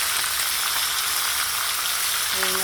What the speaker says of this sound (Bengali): মাছটা ভাজা বসাবো, এখন তেল গরম হয়ে গেছে, মাছ ভাজা বসে দিয়েছি